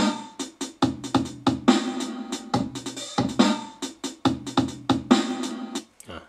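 Repeated drum hits from a drum pattern in the Pocketband app, processed with reverb, play as a rhythmic sequence of punchy strikes with short decaying tails, alone and fairly loud.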